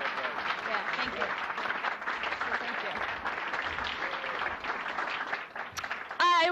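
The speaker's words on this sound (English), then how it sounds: "let's give them a round of applause" Applause from an audience at a renters' summit event runs steadily throughout, a moderate crowd clapping with voices talking over it.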